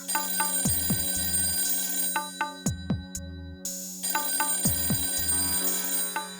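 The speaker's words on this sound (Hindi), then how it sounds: "इतनी रात को किसका फोन हो सकता है?" A telephone rings late at night, its bell sounding in three or four loud repeated bursts with short pauses between them, close and clear with no talking over it.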